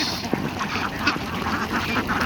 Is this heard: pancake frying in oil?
no